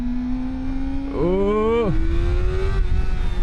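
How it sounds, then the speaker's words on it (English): Kawasaki ZX-4RR motorcycle engine revs sharply up toward its limiter and drops back, a rising tonal whine over a steady idle, close and loud, with a brief spoken exclamation nearby. "I'm going to rev it up to..."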